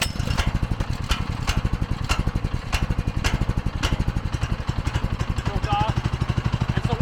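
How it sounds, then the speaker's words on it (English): A heavy-duty 4090 clutch machine's engine runs steadily at about quarter throttle with a locked rotor, its close, even pulsing chug continuing throughout. "We're going to turn the machine on again, start at 1/4 throttle approximately"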